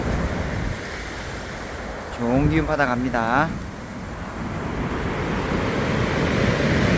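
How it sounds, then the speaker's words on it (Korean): Ocean waves break at the coast by King Munmu's tomb in a continuous, rushing wash of surf, with a person speaking briefly over it partway through. "오늘 파도도 많이 치고"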